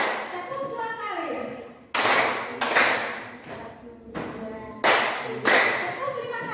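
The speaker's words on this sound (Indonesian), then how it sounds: "Tepuk 2 kali." A group of teachers claps together in a concentration exercise at a coaching workshop: loud, crisp pairs of claps, two in quick succession, then a pause and another pair, after a stretch of spoken instruction.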